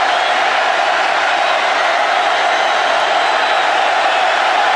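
A big stadium crowd at an Auburn vs South Carolina college football game roars loudly and continuously, forming a dense, unbroken wall of noise.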